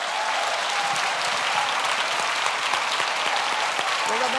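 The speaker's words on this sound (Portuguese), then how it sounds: "Vamos aplaudir a sonoplastia da igreja." A church congregation applauding the sound team, steady close clapping from many hands, loud and continuous over the short stretch with faint voices underneath.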